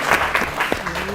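Audience applause at a school quiz competition, a short burst of steady clapping from a crowd with a few voices mixed in, fairly near and moderately loud.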